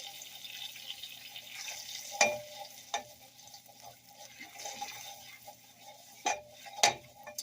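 Smoked sausage and cabbage frying in a pan with garlic powder, stirred briskly so a soft sizzle runs underneath sharp clinks and scrapes of the utensil against the pan at irregular moments; no one speaks.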